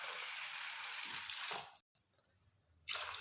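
Rinse water drained off 50 grams of washed sago pearls, a steady watery pour that stops abruptly about halfway, then a quiet pause before the flow briefly resumes.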